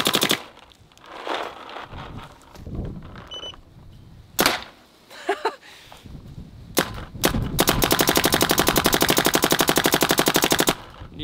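Twister Geo 4 paintball marker firing, starting with a few single sharp pops, then a long rapid string of evenly spaced shots, loud and close, with no talking.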